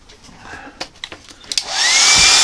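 A hair dryer roars on close and loud after a few faint taps and rustles, blowing steadily to dry blue-grey paint on a drawing.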